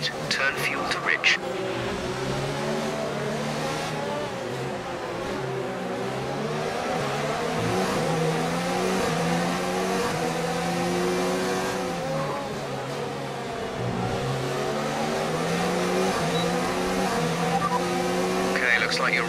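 A Renault Formula 1 car's engine in a racing video game at the Marina Bay Street Circuit in Singapore screams steadily at high revs, its pitch rising and falling through gear changes, with occasional tire squeal.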